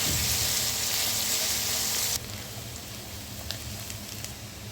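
Green chillies, ginger and garlic cloves dropped into hot oil with onions for biryani masala, a loud dense sizzle that abruptly drops to a quieter steady crackle, with occasional pops.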